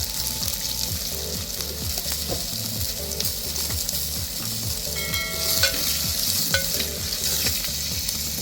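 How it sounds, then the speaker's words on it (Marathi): Roasted peas are sautéed in a hot pan while being stirred, with a loud steady sizzle and repeated scraping strokes of the spoon, close up with no talking. "आता यामध्ये आपण वाटाणे जे भाजून घेतलेले आहेत ते वाटाणे पण यामध्ये परतून घ्यायचे"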